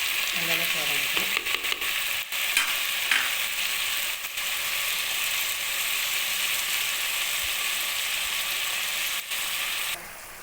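Chopped tomatoes sauté in a pan for a Tamil karunai kizhangu (elephant yam) masiyal, giving a steady, loud sizzle with light scraping stirs near the start, continuous throughout.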